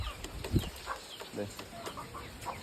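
Chickens cluck and squawk inside a coop, a scatter of short agitated calls over a few seconds with some flapping, fairly close but not loud.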